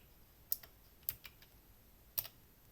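A computer keyboard being typed on in a few quiet, close keystrokes, three main clicks with small follow-up taps, spaced irregularly over a faint steady background hum.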